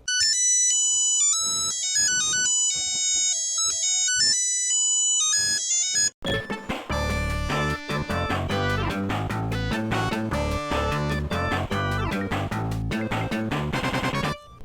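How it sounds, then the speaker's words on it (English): Boot-up tune of a Sonic LCD handheld game, thin beeping square-wave notes playing a short melody, then a denser, louder electronic chiptune passage with rapid repeated notes. "the boot up song is a barely recognizable version of the title screen song"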